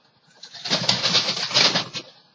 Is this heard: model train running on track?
no